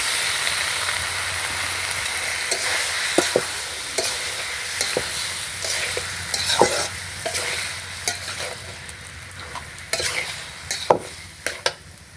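Boiled taro stalks stirred into a frying pan with fish head, a continuous close sizzle broken by repeated clicks and scrapes of a utensil against the pan.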